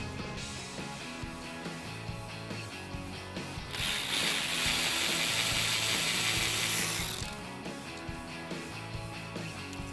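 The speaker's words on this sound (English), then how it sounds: "each one of your coil packs has a bolt in them, so grab your 7mm socket so we can get them removed" Ratchet with a 7mm socket loosening ignition coil bolts on a 1998-2004 Mustang GT: rapid, continuous clicking close up, with a louder stretch of faster ratcheting in the middle, then steady clicks again.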